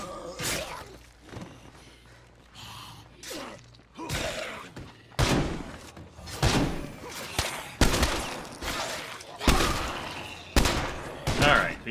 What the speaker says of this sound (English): just keep shooting that brick wall to kill that downed zombie outside